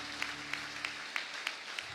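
Church congregation clapping during a bilingual French and English service, a faint, distant patter of hands with a few sharper claps standing out at regular intervals, low in level and without speech.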